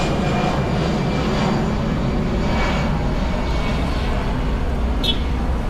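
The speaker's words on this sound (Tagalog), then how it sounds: "nadaanan lang ako dito ng eroplano" An airplane passing overhead produces a steady, loud, broad engine roar that fills the whole stretch without easing. It is heard outdoors with no speech over it.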